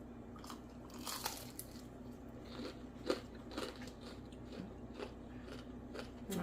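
Crisp crunches from biting into a fried oyster mushroom, close and quiet, with irregular sharp cracks and chewing between bites and no talking.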